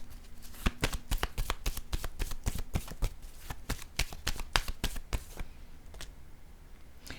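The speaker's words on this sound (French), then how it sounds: "Je vais piger une autre carte." Tarot cards shuffled and drawn by hand, a rapid run of crisp flicks and slaps, close and fairly loud, tapering off near the end with no talking.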